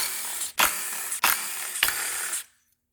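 A ratchet fitted with a 10 mm socket works bolts loose on a 2013 Fiat 500 Turbo engine, giving three close, evenly spaced bursts of rapid clicking, each starting with a sharp snap, then stopping abruptly.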